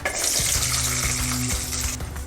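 Small shallots fry in oil in a kadai, producing a loud, dense sizzle close by with a few thuds and clinks of a spoon against the pan, and no one speaking.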